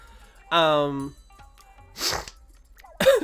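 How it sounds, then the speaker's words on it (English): A person draws a long, voiced breath, then lets out a sharp, breathy sneeze burst, followed by another quick explosive exhale nearby. "Oh, I'm gonna sneeze."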